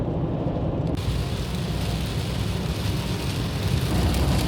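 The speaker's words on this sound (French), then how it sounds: "on arrive à Montpellier et il pleut" Rain falls steadily in Montpellier, heard as a dense, continuous hiss and patter that thickens after the first second, with a low rumble beneath and no voices.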